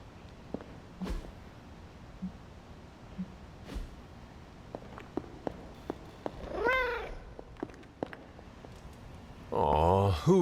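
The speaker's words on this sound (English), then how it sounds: "who is a good kitty?" A cat meows in Marvel's Midnight Suns: a faint mew partway through, then a louder, closer meow at the end, with scattered soft clicks and quiet background sounds.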